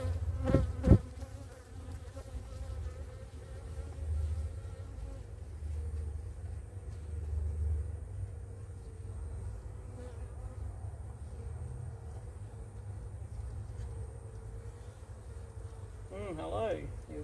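Bees buzz steadily around a flow frame hive being harvested, a close, continuous drone with a few sharp knocks early on and a person's voice briefly near the end.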